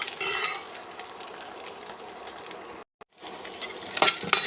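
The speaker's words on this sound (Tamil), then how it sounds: "வெண்டைக்காய் வதங்கிட்டுருக்கு." Okra pieces sautéing in a pan for a South Indian vendaikai pachadi, a steady close hiss and crackle with scraping stirs, briefly cut to silence near the end before the sizzle resumes.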